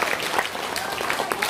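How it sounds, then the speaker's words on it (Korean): A crowd claps through the whole short stretch at a political party's founding rally, a dense, steady patter of many hands heard fairly close. "여러분 큰 박수 부탁드립니다"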